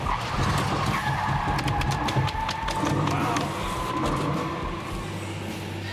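A speeding truck skidding as a police grappler net snares it, a loud screeching tire skid over engine roar and road noise, with a sustained squeal tone through the middle and voices faintly underneath.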